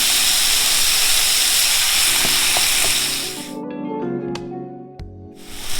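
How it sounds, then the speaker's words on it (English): Beef stir-frying in a hot pan gives a loud, steady sizzle and hiss for about three seconds, then drops away into quieter clatter and knocks. "I like to stir fry the meat first."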